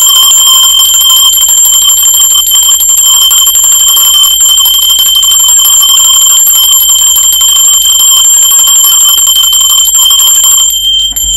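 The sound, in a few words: bell ringing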